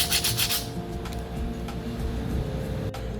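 Sanding an unfired ceramic piece by hand before its first bisque firing, a steady close rubbing rasp that is brighter for the first half-second, then continues softer and even with no talk.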